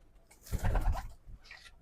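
A spotted dabbe pigeon of a Fauji Butari bloodline gives a single soft, throaty coo, brief and fairly quiet in a calm loft.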